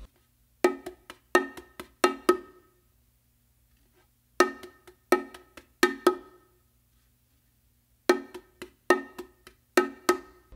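Ghost groove on bongos: open tones on the macho mixed with lighter taps, repeating bursts of quick hits in a steady pattern, separated by short silent gaps, close and unaccompanied.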